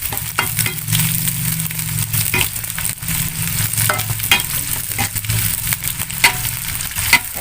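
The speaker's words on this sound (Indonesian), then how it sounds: "kita masukkan bawang merah, cabai merah dan cabai rawitnya guys. Kita aduk" Shallots, red chilies and bird's eye chilies sizzle in a hot pan for a sweet soy jengkol dish, a steady close frying hiss broken by repeated scraping stirs and spatula taps.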